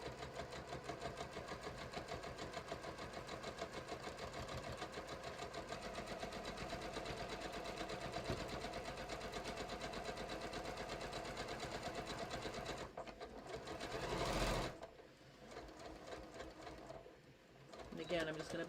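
A sewing machine stitches a quilted batik floppy hat, a faint, rapid, steady mechanical whir running continuously, then briefly stopping and restarting near the end.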